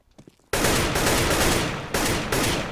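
Loud automatic gunfire in the video game CS:GO, a sustained burst of rapid shots that starts abruptly after a moment of quiet and runs without pause, with no speech.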